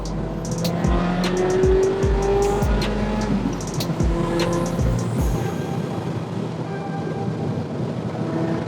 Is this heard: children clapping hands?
no